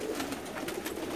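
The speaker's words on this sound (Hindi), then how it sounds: "सुमरू भाई कैसा लगा कबूतर" A pigeon coos on a rooftop in Jeddah, a soft low repeated cooing heard faintly over light background noise for a brief moment.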